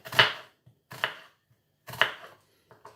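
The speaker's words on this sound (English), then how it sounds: "I've got a small onion, and again I'm going to cut this into small pieces" A knife chops through a small onion on a board in three crisp, separate strokes about a second apart, close and clear, with faint small taps between.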